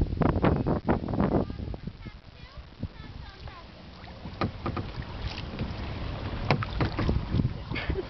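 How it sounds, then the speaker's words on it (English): A kayak is paddled with one hand: irregular watery splashes and knocks from the paddle come loudest at the start, then continue sporadically over steady wind buffeting on the microphone. "This is hard to paddle with one hand."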